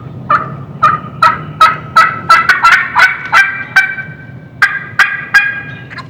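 A wild turkey gobbler gobbles repeatedly in spring, loud and close, with short rattling calls coming in quick bursts over a quiet background.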